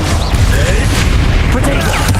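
A Confringo blasting spell goes off in Hogwarts Legacy, producing loud, booming, popping blasts that run through a dense, continuous combat roar.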